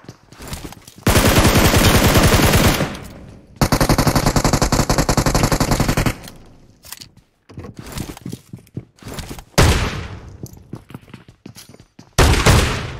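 Automatic gunfire in PUBG Mobile: long, loud sustained bursts of rapid shots, broken up by shorter volleys and single cracks.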